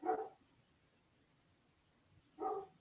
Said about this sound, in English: Oh, big dog's outside.